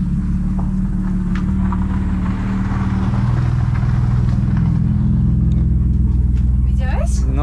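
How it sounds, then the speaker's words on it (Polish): A car rumbles past nearby, a low engine drone swelling and fading while someone talks over it. "Coś zwróciło moją uwagę, bo jedzie taki samochód."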